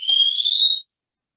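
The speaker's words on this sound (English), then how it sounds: "I assume that the whistling is at your end." During a home-office video call, a single high, steady whistle sounds clearly for under a second, then cuts to silence.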